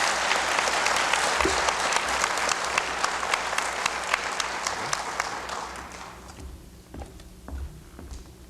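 Audience applauding 4th grade students at a school speech contest, a full round of steady clapping that fades out over the last few seconds, leaving a few scattered claps and faint room noise.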